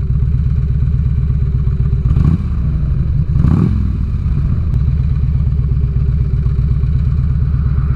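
A 2006 Harley-Davidson Ultra Classic motorcycle runs at a steady low throb during a ride. The engine rumbles evenly and loudly, with two short surges of wind or road noise partway through.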